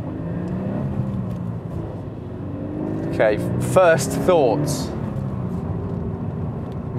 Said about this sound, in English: We've got that four-cylinder engine note. Sort of roarty.